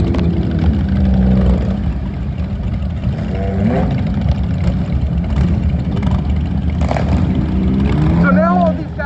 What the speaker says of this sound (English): So now all these guys have got their engines on because they have to leave